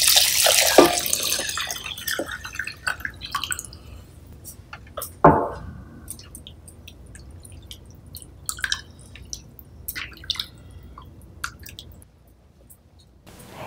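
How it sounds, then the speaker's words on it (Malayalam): Water is poured into a pot of shrimp pulao on the stove in one brief, close splash, followed by faint drips, scrapes and stirring sounds over quiet kitchen ambience. "ഇതിലോട്ടിനി നമ്മൾ എടുത്തു വച്ചിരിക്കുന്ന വെള്ളം ആഡ് ചെയ്ത് കൊടുക്കാം"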